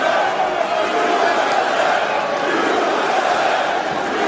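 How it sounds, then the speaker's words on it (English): A Boston arena crowd at a UFC bout roars for Jeremy Stephens against Yair Rodriguez, a dense, continuous cheer with a commentator talking over it. "Boston crowd getting behind the American Jeremy Stephens."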